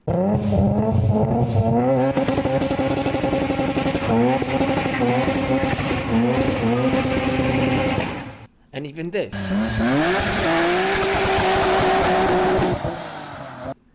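Loud cars revving hard with tyres squealing, engine notes climbing and dropping through repeated gear pulls, a sharp cutoff, then a high screeching skid and another rising rev, with a brief spoken line over it.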